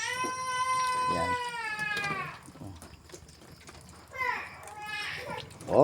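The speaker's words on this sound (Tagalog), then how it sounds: "Pusa." A cat meows repeatedly in long, drawn-out, wavering cries beside a seaside spot where a puffer fish is cleaned, with children's voices and chatter mixed in underneath.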